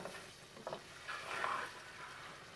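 Eggs frying in a rather hot pan, a faint steady sizzle with a brief scrape of stirring partway through.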